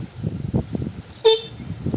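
A stock electric bike horn gives a single short, sharp honk, clear and close against steady background noise.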